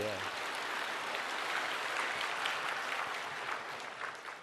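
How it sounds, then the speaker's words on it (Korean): A church congregation applauds during a Sunday sermon, a steady, fairly soft crowd of clapping that holds evenly throughout before easing off. "하나님의 감사 박수합니다."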